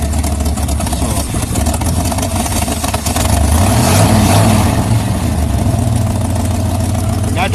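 A hot rod car engine idles roughly while still cold, a loud, close, uneven rumble that swells and climbs in pitch midway, with people talking over it.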